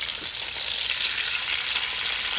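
Short ribs searing in a hot Dutch oven, a dense, loud, continuous hiss of fat sizzling, steady and close with no other sounds.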